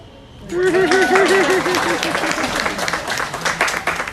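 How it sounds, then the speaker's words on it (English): Visitors at Everglades Holiday Park in Fort Lauderdale, Florida break into a burst of clapping that starts suddenly and then thins out, with a voice speaking over it. "Sometimes people clap."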